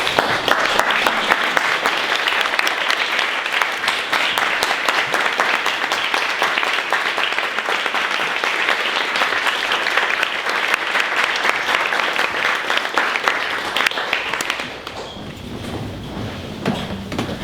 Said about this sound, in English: they do not get many rounds of applause